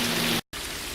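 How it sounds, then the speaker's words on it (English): Steady rain falls outside as a dense, even hiss, interrupted by a brief moment of silence before the downpour resumes. "as you can see, it's kind of raining outside"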